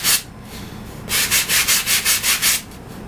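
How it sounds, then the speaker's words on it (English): Wood being sanded with 150 grit sandpaper to taper a trailing surface on a model, heard as a brief scrape followed by a run of about seven quick, even back-and-forth rasping strokes, close and loud. "that's easily accomplished with the 150 grit sandpaper"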